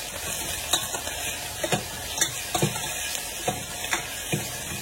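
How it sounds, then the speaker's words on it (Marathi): Chopped onion with asafoetida and salt sautéing in a pan: a steady close-up sizzle, with regular scraping taps as a spoon stirs it every half second or so. "आता आपण कांदा ॲड करूया, त्याच्याबरोबर हिंग पण ॲड करूया आणि थोडासा मीठ ॲड करूया आणि छानपैकी परतून घेऊया."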